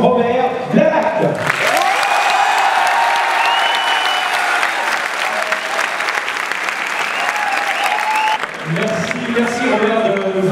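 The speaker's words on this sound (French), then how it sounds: "Je vous demande de faire un tonnerre d'applaudissements" A cinema audience at a Return of the Jedi 30th anniversary event at the Grand Rex breaks into loud, sustained applause for several seconds. A voice speaks over it at the start and again as it fades.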